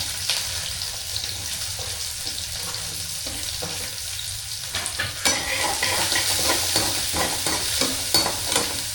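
Sliced onions sizzle and crackle in a hot pan for a chicken dish while a spoon stirs them, with scraping strokes and bursts of frying getting busier toward the end.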